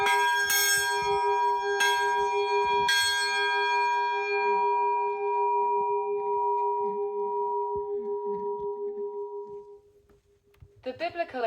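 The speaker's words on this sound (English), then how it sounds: "I go up to ring the bell." A bell rung atop Mount Sinai strikes three times near the start, each clang ringing out in a long sustained hum that slowly decays over about ten seconds, loud and close, with brief rustling at the end.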